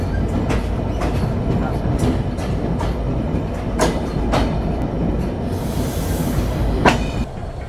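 Simanta Express intercity train runs steadily out of Parbatipur railway junction, a continuous loud rumble with regular clickety-clack wheel knocks and a brief high wheel squeal near the end.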